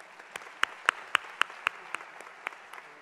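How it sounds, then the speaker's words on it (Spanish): Sparse, scattered clapping from a small group at a gala against gender violence, individual claps landing irregularly and fairly crisp, with no talking. "un aplauso a sus mentores también"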